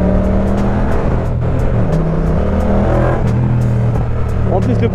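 A motorcycle exhaust fitted with its baffle, revving loud and close with a continuous throaty engine drone that rises and falls across the whole stretch.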